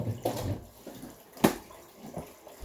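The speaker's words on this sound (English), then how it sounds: "So if I want to add water to my kettle, I think it's better to add water that's almost hot." Hot water from a water cooler pours into a tea kettle, a quiet splashing gush with a sharper burst midway, close and alone without talk.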